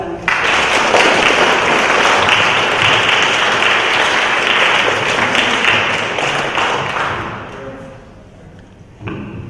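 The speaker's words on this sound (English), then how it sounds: "Let's give Lars a round of applause." Loud, dense audience applause at an evening book launch on creation care, sustained for several seconds before tapering off, with a brief burst of clapping returning at the end.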